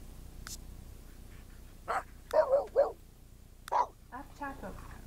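Dog barking in The Sims 3, a few short yips and barks in quick bursts heard faintly, with a person talking softly in between.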